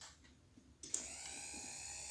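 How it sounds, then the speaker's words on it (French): A stand mixer in Animal Crossing: New Horizons kicks on with a sharp click and settles into a steady, bright whirring hum that runs on evenly, close and alone. "On fait tourner le batteur"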